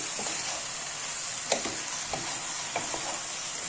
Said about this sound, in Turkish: Şimdilik biberin kavrulmasını bekliyorum.